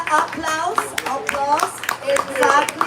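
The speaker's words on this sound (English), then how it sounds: "Applause." Applause from an audience at a comedy night, with close, sharp handclaps running fairly steadily throughout while a voice speaks over them.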